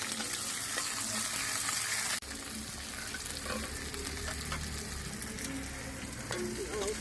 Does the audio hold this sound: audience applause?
no